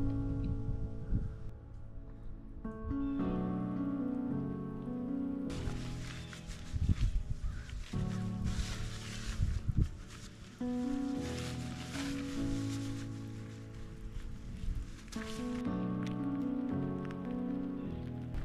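Steady rain patters on leaves and the ground along a forest hiking trail in Parker Dam State Park during fall, a continuous close wash of drops with no voices.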